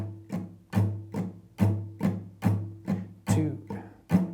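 Guitar strummed in even straight eighth notes without accents, about ten regular strokes in a steady beginner blues rhythm, each stroke ringing briefly before the next, moderately quiet and with no talk over it.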